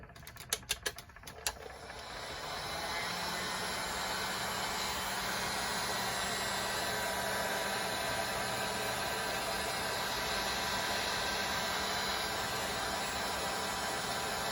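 A torch roars in a steady, loud rush while heating a glass tumbler with black and red ink swirls on a red base, following a few brief clicks at the start.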